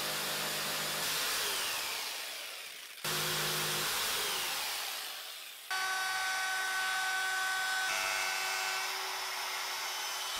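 Power tool cutting guitar neck wood, a loud continuous whine that dips and restarts in three long passes.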